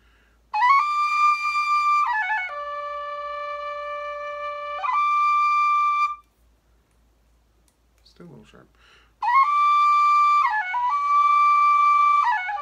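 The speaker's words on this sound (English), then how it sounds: "So we'll use a D Woody whistle here." A wooden D tin whistle plays a simple tune of clear, bright held notes, pausing briefly in the middle before the melody resumes.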